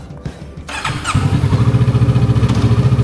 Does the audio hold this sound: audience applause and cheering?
no